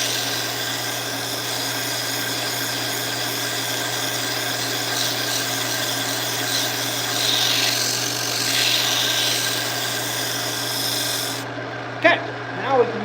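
Sandpaper rubbed against a segmented wooden bowl spinning on a lathe, with a light touch to clear coarse sanding marks; a steady close hiss over the lathe's hum, ending in a few brief knocks.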